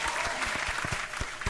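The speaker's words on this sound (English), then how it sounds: "one more time, big round of applause" Applause from a live audience at a talk show, steady dense clapping throughout with a few louder sharp hand claps standing out up close.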